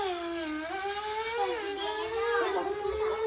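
A small child imitates a car with a long, wavering voiced hum that rises and falls like an engine revving, close and fairly loud, with no other sounds behind it.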